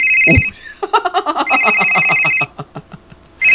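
An incoming call rings on a Korean radio talk show: a telephone ringtone sounds twice in bright electronic bursts, a rapid pulsing tone between them, fairly loud and alone.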